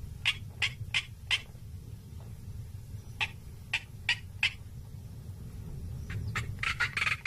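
A male black korhaan calling over a steady low rumble in early-morning Kalahari dunes, with repeated sharp, rasping notes in bursts that grow faster and more crowded toward the end.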